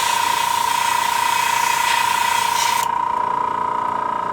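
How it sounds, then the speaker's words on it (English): An airbrush spraying light coats of paint onto a model, a steady hiss with a constant high whine, close and loud, the hiss cutting back near the end while the whine carries on, no talk. "using the airbrush definitely seems to make it a little easier"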